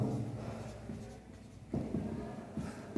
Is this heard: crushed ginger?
no